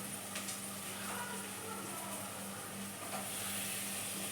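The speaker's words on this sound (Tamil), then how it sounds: "இப்போ நம்ம இந்த டைமில் வந்து தக்காளி சேர்த்துக்கலாம்." Tomatoes dropped into a hot frying pan of softened onions while cooking chicken biryani, giving a steady, dense sizzle and hiss that runs unbroken throughout, close and fairly loud with no talking.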